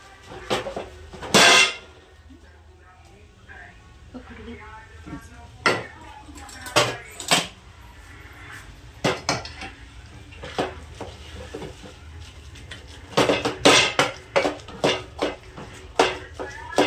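Boiled potatoes mashed in a metal pot for pav bhaji, a masher striking the pot in sharp irregular clanks and knocks, some in quick clusters, with quieter scraping and low voices between.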